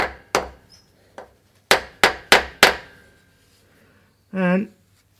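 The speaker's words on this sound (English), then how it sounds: "So I'm just using the hammer just to finish it off," Several close, sharp hammer strikes on metal, tapping a rear pinion seal into a 105 Series Toyota Land Cruiser, a few spaced taps then a quick run of four, followed by a short voiced sound at the end.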